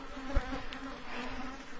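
Steady insect buzzing of many native honey bees, a dense continuous drone with a low thump near the start.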